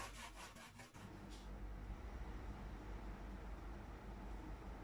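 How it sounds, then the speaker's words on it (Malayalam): Raw tapioca (cassava) is rubbed over the finest holes of a kitchen grater, making a steady, close rasping scrape that continues without pause at a fairly soft level. "ഞാൻ ഗ്രേറ്ററിൽ ഏറ്റവും ചെറിയ ഹോൾസാണ് ഗ്രേറ്റ് ചെയ്യാൻ എടുത്തിട്ടുള്ളത്."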